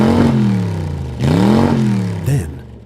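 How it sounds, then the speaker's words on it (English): A flying car's engine revs loudly in two long rising and falling surges, then gives a short final burst before cutting off. "The car begins to make a loud, revving noise."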